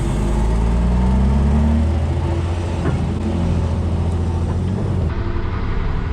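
An articulated dump truck's diesel engine pulls away on a hill start, a loud, steady low rumble that holds at high level with a slight drop in pitch midway.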